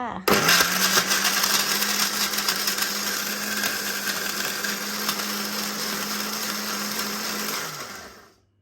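A blender whirring through a seafood dipping sauce, a loud steady motor whine that runs for about seven seconds and then spins down to silence.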